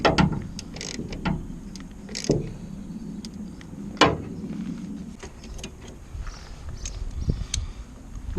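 Clicking and ratcheting as Torx bolts are tightened on a replacement wiper motor for a Ford Fiesta Mk6, scattered close metallic clicks and short ratchet bursts with pauses between, no talk.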